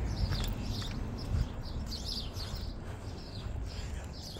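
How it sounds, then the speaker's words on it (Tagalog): Birds chirp in short, faint tweets scattered over a steady outdoor background rumble, with a few soft thuds. "Tingnan po na naman nyo yung mga ingay ng ibon."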